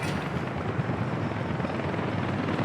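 Helicopters deliver construction materials in Workers & Resources, their steady, dense rotor drone holding even throughout at moderate loudness.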